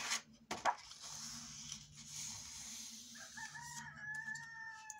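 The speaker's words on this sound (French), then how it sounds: "Et le coq m'accompagne." A rooster crows once at a moderate distance, a drawn-out call rising and trailing off over a quiet background with faint rustling paper handling nearby.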